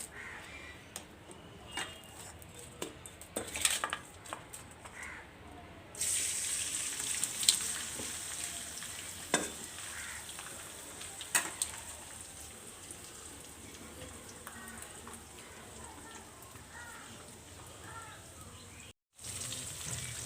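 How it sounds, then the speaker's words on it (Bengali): Fish frying red in hot oil on an outdoor clay stove gives a steady, fairly loud hiss that swells after a few seconds, with crows cawing nearby and the odd sharp knock. "তেলটা আমার গরম হয়ে গেছে, আমি মাছগুলো ভেজে নেব লাল করে।"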